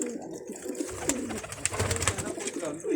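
A pigeon coos close by in soft repeated throaty calls, with faint background noise around it.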